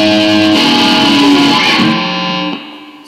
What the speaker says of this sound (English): I'd turn on my octave pedal and it would make my ukulele come to life